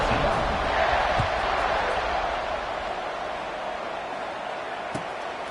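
A stadium crowd at a college football kickoff between UK and Ark, a broad, loud roar that swells early and eases into a steadier din, with one or two sharp thuds.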